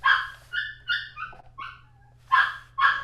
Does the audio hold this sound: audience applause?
no